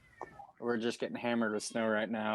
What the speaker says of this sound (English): I don't know if you can hear a cat in the background.